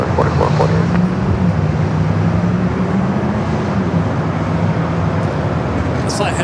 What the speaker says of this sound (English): 737-700, flight 4448 with Southwest.